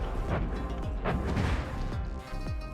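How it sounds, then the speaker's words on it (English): Repeated explosions strike a warship in the naval combat game From the Depths, a steady barrage of heavy booming impacts and crashes arriving every half second or so, close and dense with no voices. "The Nolaru is being peppered with explosions."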